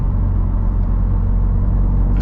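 A Chevrolet Corvette C8 Z51 V8 rumbles with a deep, steady exhaust drone heard from inside the car while cruising, loud and unbroken.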